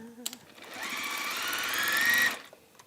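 A domestic sewing machine runs a steady stitching burst of about a second and a half at close range, stitching a waxed-base drawstring caddy, with short faint sounds before and after.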